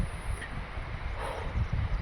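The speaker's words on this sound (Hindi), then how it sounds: "बहुत तेज़ हवा चल रही है" Wind gusting on a mountain pass during the Shrikhand Mahadev pilgrimage trek in bad weather, a steady rumbling buffet against the microphone, moderately loud and continuous.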